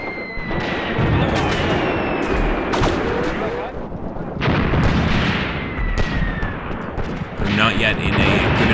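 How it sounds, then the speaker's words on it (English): Artillery and gunfire from a Soviet attack in the war game Graviteam Tactics: Mius Front, with loud repeated booming shots and sharp cracks over continuous battle rumble, closely spaced across the whole stretch. "Fire that gun, boys!"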